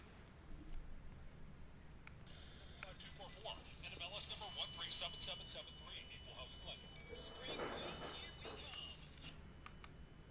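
A censor beep sound effect, a high-pitched steady electronic tone, cuts in partway through and holds over continuing speech.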